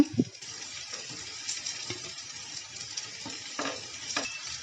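Steady soft sizzling of chepa pitha frying in a little oil, with occasional light clinks and scraping from a utensil, fairly quiet and close.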